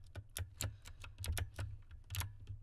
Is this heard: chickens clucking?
no